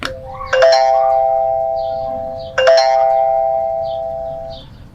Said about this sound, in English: when you ring the doorbell